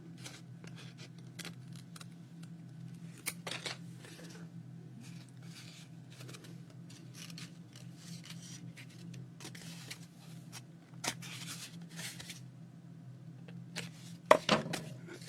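Scissors cut paper along a blue guide line while making a journal, giving quiet, intermittent snips and rustles over a low steady hum, with a sharper cluster of cuts near the end.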